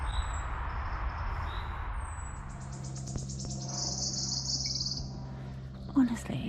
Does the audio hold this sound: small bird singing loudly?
yes